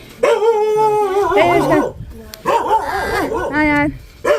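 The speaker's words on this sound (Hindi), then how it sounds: "इतना भौंकने लग जाता है कि ये किसी और को सुनने ही नहीं देता है" A village dog barks and yelps loudly and close by in a few long, agitated bursts, with people talking over it.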